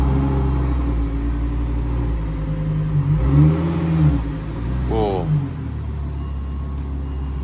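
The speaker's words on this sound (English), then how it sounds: "No other car maker can make an engine that sounds as good as the Italians." A Lamborghini Huracan's V10 engine idles, then revs up and falls back twice in quick succession, loud and close, rising whines over a deep rumble, with a brief exclamation from someone nearby.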